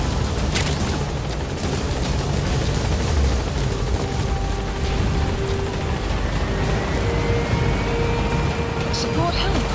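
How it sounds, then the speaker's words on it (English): Support helicopter arriving in Metal Gear Solid V: The Phantom Pain, a steady, loud rotor roar with a low rumble that runs unbroken throughout, with brief tonal whines layered over it. "Support helicopter has arrived."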